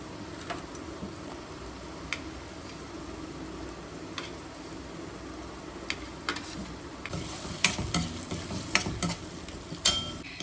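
Chopped onion goes into salted vegetables frying in a pan. A steady low sizzle runs throughout, and toward the end a spoon scrapes and taps the pan in sharp, irregular clicks.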